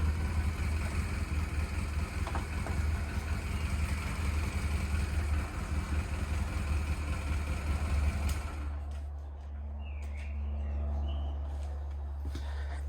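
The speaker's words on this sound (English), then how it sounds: "I just had my motorbike running" A motorbike engine idles steadily with a low, constant rumble, then the noise drops abruptly to a quieter, smoother idle for the last few seconds.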